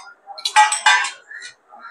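Two deep plates clink together as they are handled, a few bright, close clattering knocks in a short burst, followed by a lighter clink, with no talking.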